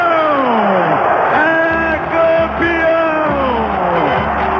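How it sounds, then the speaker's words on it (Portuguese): Football fans in a stadium roar after Sport scores the championship-winning goal, with loud bellowing and whooping voices rising in sweeping waves of cheering. "a torcida do esporte vai à loucura"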